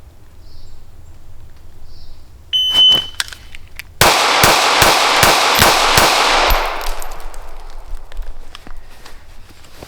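A short electronic shot timer beep sounds, then after a pause six sharp, loud shots from a Smith & Wesson Bodyguard 2.0 pocket pistol fire in quick succession at 7 yards, echoing and fading afterward.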